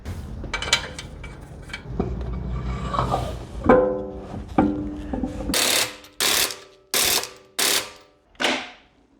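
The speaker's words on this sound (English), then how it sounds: "first let's install the front right wheel" Front right wheel going onto a BMW 540i under repair, with a ratchet or impact tool zipping lug bolts tight: loose clicking and clatter at first, then five sharp, loud, evenly spaced bursts close by.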